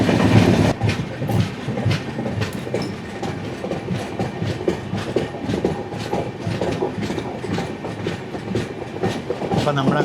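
The 20924 Gandhidham - Tirunelveli Humsafar Express runs toward Shoranur Junction with a steady rhythmic clickety-clack of wheels over rail joints under a continuous rumble, loud and close, with occasional faint talk.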